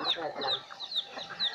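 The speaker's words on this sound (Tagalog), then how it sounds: "dami nilang manok dito, guys" Chickens cluck and squawk in short repeated bursts, fairly close, with a busy farmyard murmur behind them.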